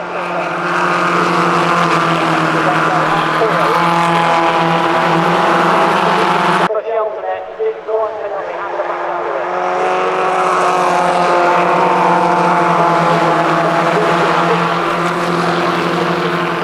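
Mazda race cars in a 750 Motor Club meeting at Cadwell Park roar loudly and continuously, several engines overlapping as they pass with a brief sudden drop partway, while a commentator talks over them.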